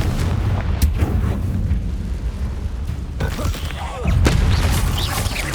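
A Confringo fire spell explodes in the Hogwarts Legacy video game, giving heavy booming blasts and rumbling bursts, with a sharp loud hit near the end amid continuous battle noise.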